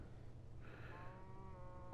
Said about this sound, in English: There's a cow down there.